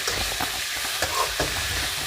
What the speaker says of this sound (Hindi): प्याज को अच्छे से भूनते रहेंगे जब तक कि प्याज ब्राउन ना हो जाए